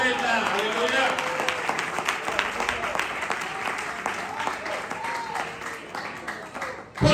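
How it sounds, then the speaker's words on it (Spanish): A church congregation claps during a preaching service, sustained applause with scattered cheers and voices mixed in, fading slightly before a sharp rise at the end. "Dale un aplauso de verdad."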